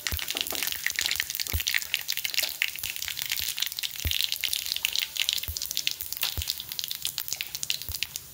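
Cumin seeds dropped into hot oil with mustard seeds in an iron kadai give a steady, dense crackle and hiss throughout, with occasional sharper pops, close and moderately loud.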